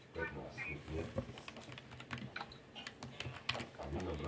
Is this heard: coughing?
no